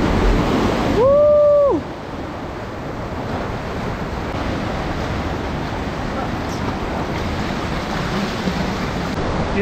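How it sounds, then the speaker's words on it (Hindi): Steady roar of ocean waves washing against the rocky shore at Suluban Beach in Bali, loud and continuous throughout, with a brief whistling tone near the start. "थोड़ी देर में वेव्स आती हैं,"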